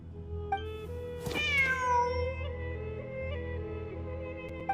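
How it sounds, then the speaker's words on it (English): A cat meows in a video game, one clear, drawn-out meow in the middle, close and loud over steady background music and ambience. "The cat!"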